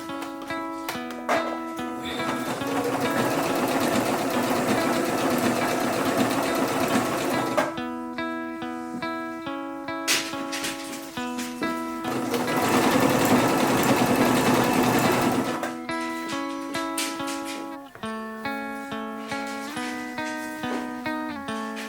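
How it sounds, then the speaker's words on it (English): A sewing machine stitches pinned tunic fabric pieces together, running in two long steady bursts with a brief pause between them and a final shorter run, its motor whirring loudly and close with no talk. "With right sides together, I have pinned them now to sew them together"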